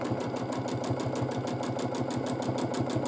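A domestic sewing machine quilts a large quilt with a fast, steady mechanical chatter of needle strokes at an even rhythm. It is close and fairly quiet, and no one speaks.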